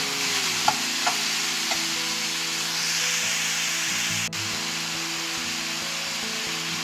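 Egg masala onions with turmeric and salt sizzle steadily in a pan, with a few light utensil taps early on, a single sharp knock midway and continuous stirring.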